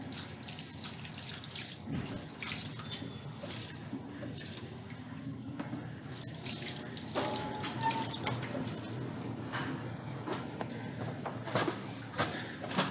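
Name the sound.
water running from a tap, wetting a beauty blender sponge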